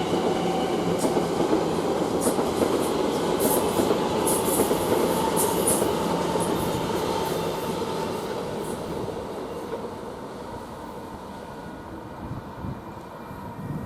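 An Elizabeth line Class 345 electric train pulling out of Romford station, a loud steady rumble of wheels and motors with occasional rail squeals, gradually fading as it departs.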